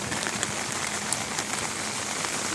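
Heavy rain falls steadily and loudly on surfaces outdoors, a dense, continuous hiss with scattered sharper drop impacts throughout, no talking.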